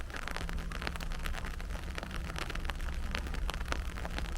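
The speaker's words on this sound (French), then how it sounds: "tu l'entends, ce bruit? Sur le parapluie, là. La pluie qui tombe." Rain falls on an umbrella while walking outdoors, a steady close crackle of drops tapping the fabric over a constant hiss, with no voices.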